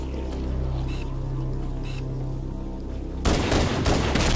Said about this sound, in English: try to shoot all the carrier forms down below